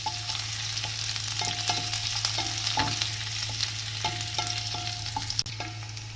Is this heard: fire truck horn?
no